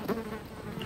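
A fly buzzes close by for a brief moment at an outdoor eating spot in Bali, a faint wavering drone rising and fading within a second.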